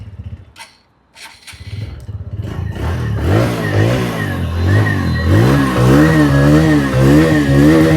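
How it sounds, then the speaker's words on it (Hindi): TVS Radeon 110 motorcycle starts up after a few clicks, then its exhaust settles into a steady single-cylinder putter with repeated throttle blips, loud and close. "आप इसके एक बार एग्जॉस्ट साउंड जरूर नोट करें आप।"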